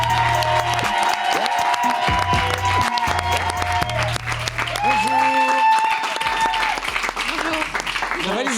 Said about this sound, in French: on peut l'applaudir, allez